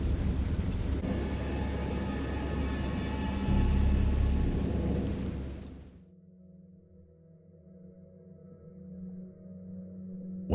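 Heavy rain and rumbling thunder from a storm at sea in the horror game Dagon pour down loudly, then cut off abruptly, leaving a low quiet drone.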